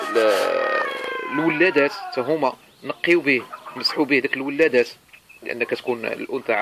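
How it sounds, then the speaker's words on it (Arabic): Hens cackle loudly at egg-laying time on a rabbit and poultry farm, their harsh repeated calls strongest at the start and then carrying on beneath someone talking steadily. "كنعتذر على الصوت ديال المقاقيه ديال الدجاج، لان وقيتهم هذه باش كيوضعوا البيض"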